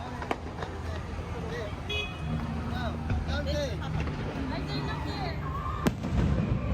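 Fireworks burst at Mall of Asia in Manila during Christmas, producing a series of scattered, fairly distant booms and crackles. They sit beneath a constant outdoor crowd murmur with occasional nearby voices.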